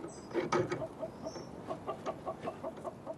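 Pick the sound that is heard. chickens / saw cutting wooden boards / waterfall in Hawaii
chickens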